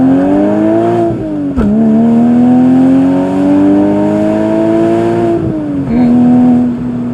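A 1997-2004 Porsche 986 Boxster's flat-six, fitted with a Fabspeed Supercup exhaust, is heard from inside the cabin, holding a loud, smooth rising wail through the revs with brief dips at the shifts.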